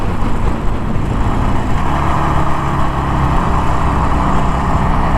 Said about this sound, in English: The motor does sound a bit strange though. Probably just how Harley sound.